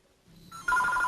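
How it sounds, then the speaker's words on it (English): A phone starts ringing nearby, a repeating electronic ring that swells from faint to loud and steady. "Somebody's phone is ringing."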